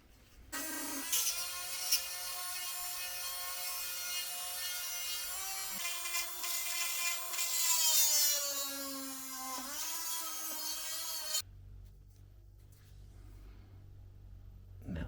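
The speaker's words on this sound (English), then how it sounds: "I'm going to use one of these little hand drills, like a Dremel style" A small Dremel-style rotary hand drill bores through a thin wooden dowel, a steady high whine with shifting pitch as it bites, running close and loud for about ten seconds before cutting off abruptly.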